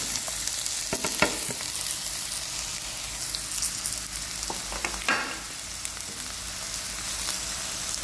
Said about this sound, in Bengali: এটা হালকা গরম হয়ে আসতেই উপর থেকে আমি লাউগুলো কাটা লাউগুলো ঢেলে নিলাম